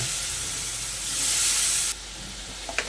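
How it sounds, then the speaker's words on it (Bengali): Ground spices with chili powder sizzling and hissing in a pan after a splash of water, a steady steamy fry for the ghugni masala that drops quieter partway, with faint clinks near the end. "অল্প একটু জল দিয়ে মশলাটা আর একটু ভালো করে কষে নেব।"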